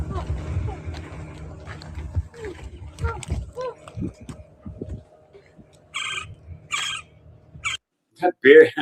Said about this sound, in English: That bird is awesome. Do you hear that bird?